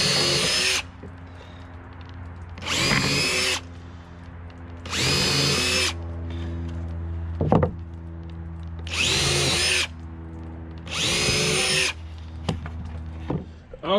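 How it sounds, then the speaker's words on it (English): A power drill whirs up close in five separate bursts, each a few seconds long, pre-drilling holes in wood through a wooden template, with a low steady hum and faint knocks between them. "we'll drill out the rest of them"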